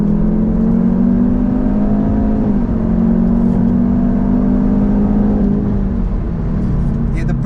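A 2018 Jaguar F-Type P300 with a 2.0L engine drones hard under acceleration inside the cabin, a loud sustained strained note that rises in pitch, with brief voices near the end.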